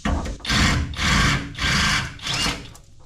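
A power drill enlarges a bolt hole to 11/32 inch during a Rough Country hood lift kit install, whirring loudly in four pulsing bursts of about half a second each, close up and with no voices.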